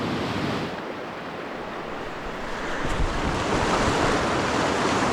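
Fast-flowing river in New Brunswick, a steady loud broadband rush of moving water that swells slightly louder toward the end, with wind buffeting the microphone and no voices.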